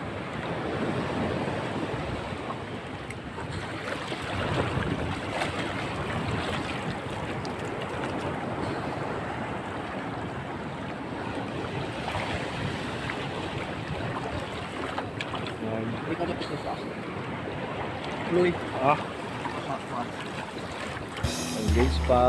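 Big ocean waves surge and crash around a lobster-fishing boat at sea, a continuous rushing roar mixed with wind buffeting the microphone, with a few sharper splashes near the end.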